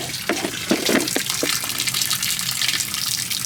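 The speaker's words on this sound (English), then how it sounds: "I can hear it draining outside." Shower water draining outside a Promaster van, a steady close splashing gush of running water with a few brief knocks at the start.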